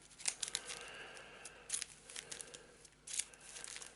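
A deck of Arkham Horror card game cards is shuffled by hand, giving soft papery riffles and crinkly flicks in a few short bursts, close and quiet.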